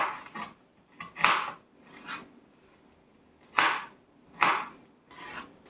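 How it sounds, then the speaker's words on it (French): A knife chops shrimp into three pieces on a cutting board, giving several crisp, close cuts in uneven bursts with short pauses between them, and no voices. "on découpe nos crevettes en 3"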